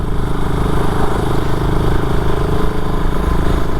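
A BSA Goldstar motorcycle rides along country lanes, its single-cylinder engine producing a steady, throbbing low rumble with a continuous pulsing beat, close and loud throughout, with wind noise layered on top.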